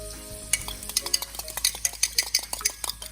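Butter sizzles in a small omelet pan over medium heat, a soft crackle beneath a quick run of utensil taps and scrapes against the pan. Nobody speaks.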